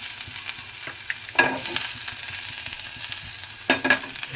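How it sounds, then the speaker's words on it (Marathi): Crushed garlic frying in hot oil while fish is cooked, giving a steady soft sizzle with a few brief louder crackles and spatters. "तेलामध्ये ठेचलेली लसूण टाकू"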